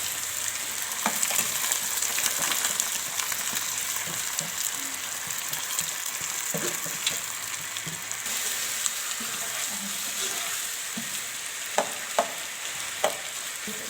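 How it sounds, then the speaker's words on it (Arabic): Rice sautés in a pot with cardamom and mastic, a steady moderate sizzle with scraping stirs and occasional sharp clicks of a utensil against the pot. "هننزل بالرز نشوحه كويس قوي معاه"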